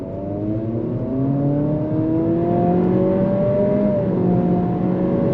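A 2023 Acura Integra with a CVT accelerates hard from a standstill, its engine note climbing smoothly and steadily in a continuous close-up whine with no gear-change breaks.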